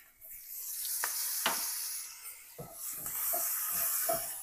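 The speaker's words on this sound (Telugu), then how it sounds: "ఇవి పచ్చిమిరపకాయలు మంచిగా గోలిన తర్వాత దీనిలో కొంచెం కరివేపాకు వేసుకుందాం." Green chillies and curry leaves sizzle in hot oil for a spicy shrimp fry, a steady hiss broken by a few sharp crackles and spoon stirs close to the pan.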